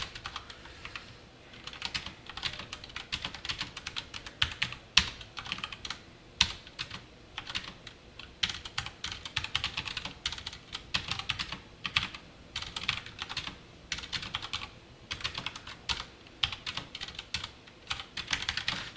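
Fast, irregular clicking of a computer keyboard while Python code is typed, near and fairly quiet, with bursts of rapid keystrokes and brief pauses between them.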